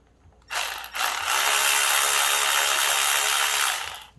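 A Milwaukee 3/8 power ratchet spins out the spark plug bolts on a Jeep Compass 2.4L engine, a loud close whirring ratchet burst that stutters briefly, then runs steadily for about three seconds before stopping.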